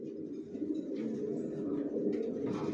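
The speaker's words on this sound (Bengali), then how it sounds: "পাইট রেসার এক জোড়া বাচ্চা" Racer pigeon chicks and pigeons in a loft give low, continuous cooing, a soft murmuring drone close by, with faint higher chirps scattered through and no speech.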